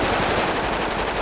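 Rapid automatic gunfire in GTA 5, a dense, continuous burst of shots, loud and close, with no talk.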